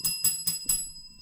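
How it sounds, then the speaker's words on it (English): Hand bell rung in four quick, bright strikes with a ringing tail, each burst close and clear, followed by a fading shimmer; no talk over it. "Where's my bell?"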